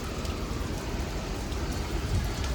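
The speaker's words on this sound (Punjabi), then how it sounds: "ਮੀਂਹ ਨਹੀਂ ਹਟ ਰਿਹਾ" Heavy rain pouring down steadily, a dense, constant roar of drops on surfaces with no voices.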